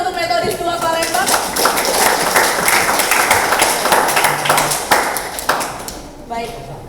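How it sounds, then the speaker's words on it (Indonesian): A school debate audience applauds the SMA Methodist 2 Palembang team in a dense, sustained burst of clapping that lasts several seconds before tapering off, with a voice speaking over the start. "terima kasih, tepuk tangan untuk Metodis 2 Palembang"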